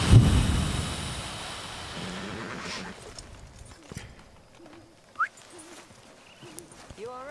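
Horse hooves clip-clop in Red Dead Redemption 2, loudest at the start and then fading to faint scattered steps, with a brief whinny-like call and some muffled voices in the background.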